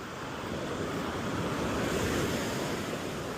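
Ocean waves rolling onto Coronado beach, a steady broad roar of surf with wind buffeting the microphone, continuous and fairly close, no voices.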